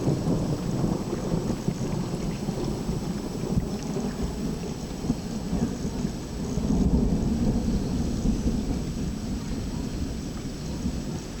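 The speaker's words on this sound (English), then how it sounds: "It actually was a small storm that was kind of strong, which sent me back to the car" A small but strong thunderstorm with steady heavy rain, a dense continuous roar with rumbling thunder swelling partway through, loud and close, with no voices.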